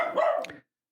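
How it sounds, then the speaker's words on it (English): A single short, sharp dog bark close by, cut off abruptly into silence. "that's my dog."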